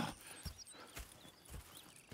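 Horses moving in the Red Dead Redemption 2 video game: quiet clip-clop hoofbeats in an uneven walking rhythm, faint and slightly distant.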